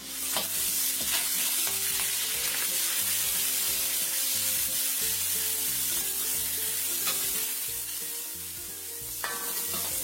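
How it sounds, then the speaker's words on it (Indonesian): Ground spice paste and fried shallots sizzle steadily in a pan for Javanese fried rice vermicelli, with continuous close frying hiss and scraping stirs throughout and no voices. "Kita tambahkan bumbu yang sudah diulek ini sampai matang."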